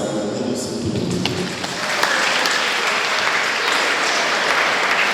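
Congregation applauding in a parish church in Kinshasa, Democratic Republic of the Congo, a dense steady roar of many hands that swells louder after the first two seconds and holds throughout.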